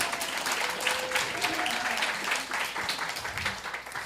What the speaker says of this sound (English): Little applause for that group,